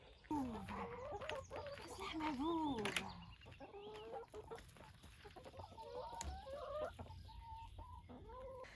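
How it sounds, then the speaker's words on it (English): Backyard chickens being let out of their coop, clucking and squawking in overlapping calls close by, with a few louder excited cackles and some quieter stretches between. "But first we can let out the chickens."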